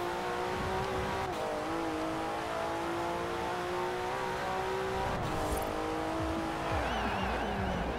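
A race car engine in Forza Horizon 4 revs and accelerates steadily, its tone climbing and shifting through gears, loud and close, with a brief tire squeal near the end and no talking.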